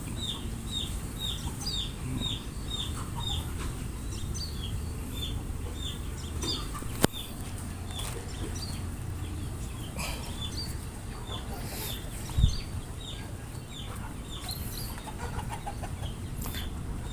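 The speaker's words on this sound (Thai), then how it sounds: "ไก่ไข่สายมันแท้ต่างประเทศนะครับ" Laying hens of an imported commercial egg-laying breed cluck and squawk repeatedly in a farm coop, a steady chorus of overlapping calls with no talking and one brief louder knock.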